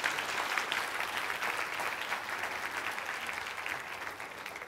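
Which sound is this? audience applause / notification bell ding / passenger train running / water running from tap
audience applause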